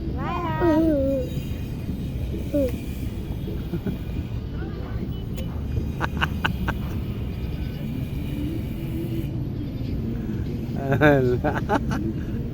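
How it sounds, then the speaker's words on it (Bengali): A kitten meows in a few short, rising cries, near and clear, at the start and again near the end, while people talk over a low background rumble. "এই যে দেখেন বিলাই লইয়া বসে রয়েছে"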